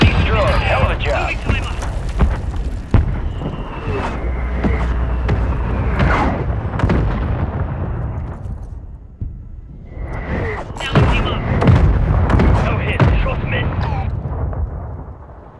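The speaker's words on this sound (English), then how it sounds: "Mortar strike underway." Mortar strike explosions in a Call of Duty game, repeated heavy booms and crackling blasts across the span, with a quieter lull midway, alongside game voice announcements.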